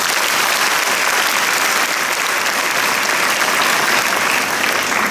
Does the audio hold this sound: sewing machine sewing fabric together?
no